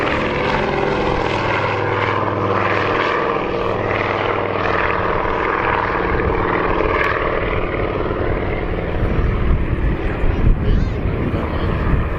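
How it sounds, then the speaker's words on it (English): Consolidated PBY-5A Catalina amphibian on its take-off roll at the RAF Cosford Airshow, twin radial piston engines giving a sustained loud propeller drone with rumbling, mid-distance, gradually shifting engine tone throughout. "take off roll. The consolidated PBY-5A Catalina."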